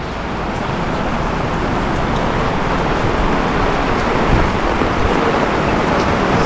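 Rain falls over a housing construction site in Trece Martires, Cavite, making a loud, dense and continuous hiss with no gaps.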